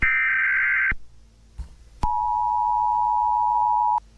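A two-tone Emergency Alert System attention signal, as used in analog horror, sounds for about a second, breaks off, then returns as a single steady electronic tone held for two seconds before cutting out cleanly.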